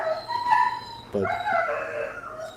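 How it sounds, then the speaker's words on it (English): Dogs bark and yip indoors at someone arriving at the door, sounding fairly faint and somewhat distant, with short whiny barks over a low background and a single spoken word from a nearby voice. "my dogs are freaking out"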